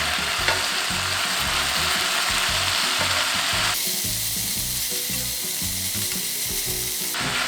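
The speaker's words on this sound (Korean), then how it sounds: "노릇해질 때까지 이렇게 볶아줍니다." Chicken breast stir-frying in a pan until golden, Korean home cooking: loud, close, continuous sizzling with rapid rhythmic scraping of a utensil against the pan, the hiss shifting in tone midway, no talking.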